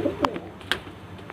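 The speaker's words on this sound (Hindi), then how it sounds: "ये देखो हमारा कबूतर आ गया" A pigeon coos near a scattering of grain laid out to catch it, two short soft calls about half a second apart, close by with no talk.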